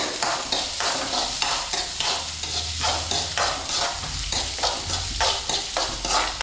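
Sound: onion being sautéed and stirred in a pan

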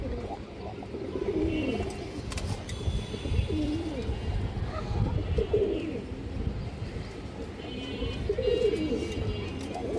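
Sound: pigeon cooing

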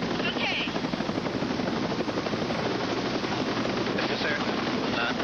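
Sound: helicopter flying with patient aboard

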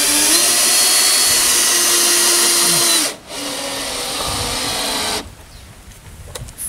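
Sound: power drill driving screws with a bit into wood

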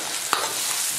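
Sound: stir-frying green and red peppers in a wok

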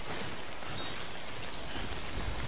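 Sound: rain in the video game Death Stranding

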